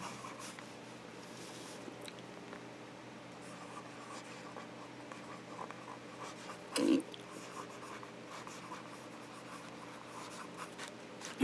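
A fountain pen nib scratches steadily across paper in a quiet room, a soft continuous writing sound for several seconds, with a brief louder bump partway through and a faint low hum underneath.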